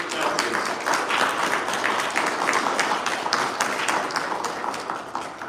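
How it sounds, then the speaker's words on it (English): A steady round of audience applause at a hemp policy event, dense clapping from a crowd held at an even level throughout. "we should give Hometown Hero and Cynthia a huge round of applause"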